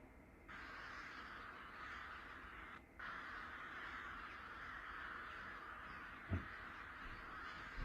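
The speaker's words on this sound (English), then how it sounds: "Thousands of crows in this one area of Japan." A large flock of crows in Japan caws continuously, a dense steady chorus of many birds at middle distance with no gaps, one louder thump near the end.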